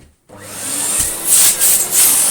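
A Philips Triathlon 1300 wet and dry vacuum cleaner starts up with a click and whirrs into a steady, loud hiss, its pitch wavering slightly as it runs nearby.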